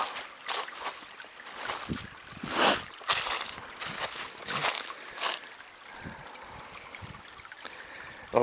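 A stream trickles and sloshes over a rock nearby, with irregular splashy bursts rising and falling over a soft continuous flow.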